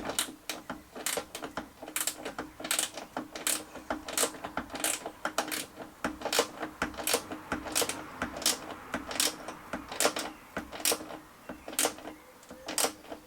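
A 12 mm wrench tightens a bolt while fitting hydraulic struts to a car bonnet, giving a close, steady run of sharp metallic ratchet clicks in an even rhythm with no talk.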